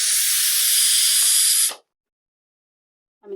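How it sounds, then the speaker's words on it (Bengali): Steam bursts from a pressure cooker as its lid is opened while beef curry with potatoes cooks, a loud steady hiss lasting nearly two seconds before cutting off abruptly, followed by silence and a faint brief clatter. "প্রেসার কুকারের ঢাকনাটা খুলে আপনাদেরকে দেখিয়ে দিব কেমন হয়েছে,"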